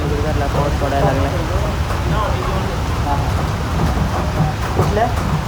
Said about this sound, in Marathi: निगुडकरला पाऊस पडायला लागला.